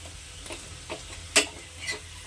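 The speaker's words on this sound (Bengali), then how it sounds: "এইভাবে লাল লাল করে ভেজে নেবেন।" A chapati fries in hot oil, giving a soft, continuous sizzle with a few small pops and one sharper crackle, quiet and close, with no voices.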